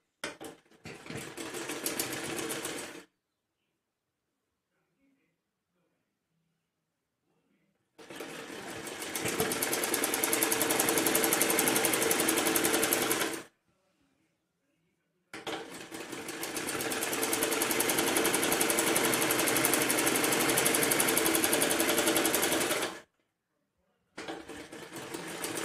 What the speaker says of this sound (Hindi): इस तरीके से इसमें पूरे में सिलाई लगानी है हमें दोनों तरफ